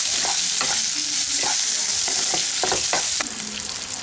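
A few grains of sugar dropped into hot oil for chilli paneer, a loud continuous sizzle with occasional spoon clinks and scrapes in a pan nearby.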